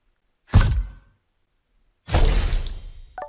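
Two sharp synthetic camera-shutter bursts from the War and Order mobile game screenshot, the first short and the second longer with a noisy crackling tail, separated by a second of silence.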